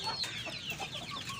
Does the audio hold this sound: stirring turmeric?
no